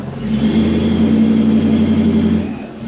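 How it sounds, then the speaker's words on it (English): Toyota Celsior / Lexus LS400 engine revved up and held at steady high revs for a few seconds during drive shaft diagnosis, a loud, close, sustained mid-pitched drone that eases off at the end. "Just bring it up into revs, will you?"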